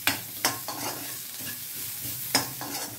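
Spices of turmeric, coriander and pepper powder being stirred into cauliflower frying in a pan, with a few sharp scraping strokes standing out over a steady close sizzle, no talking.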